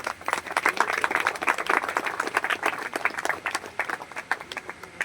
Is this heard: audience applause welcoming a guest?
yes